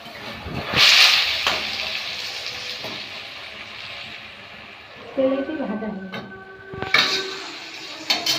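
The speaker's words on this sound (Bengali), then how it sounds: "আলুটা ভেজে নিচ্ছে" Potatoes frying in hot oil give a steady, close sizzling hiss that swells early on, while voices and other tonal sounds come in over it later.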